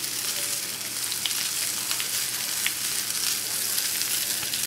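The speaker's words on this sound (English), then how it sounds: "This is a fast sizzle, you can hear that." Veal and chicken cordon bleu sizzles briskly in a hot pan, a continuous crackling hiss with scattered pops throughout.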